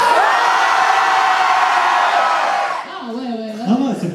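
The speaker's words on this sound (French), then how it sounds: "Essayez de gueuler un petit peu pour..." Audience in a lecture amphitheatre at a cosplay contest shouting and cheering loudly, a sustained roar of voices that drops away toward the end as scattered individual shouts follow.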